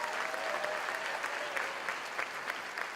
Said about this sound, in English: can we have another round of applause for Anisha Smith as well?